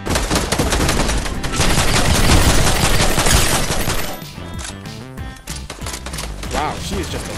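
Loud, rapid video game gunfire sprays in dense bursts for several seconds, then thins into scattered shots and clatter under a noisy mix.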